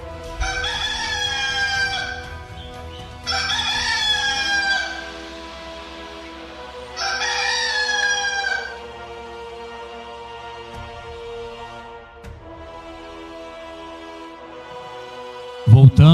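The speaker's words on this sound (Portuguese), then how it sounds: "Imediatamente o galo cantou." Rooster crowing three times in strong, rising-then-falling calls, loud and near, followed by a steady background hum with a sharp knock at the end.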